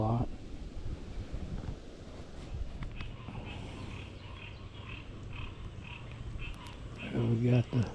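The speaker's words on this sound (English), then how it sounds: "frogs are croaking late in the evening." Frogs croaking late in the evening near cypress water on a windy day, a steady low chorus under gusting wind noise, with a louder burst near the end.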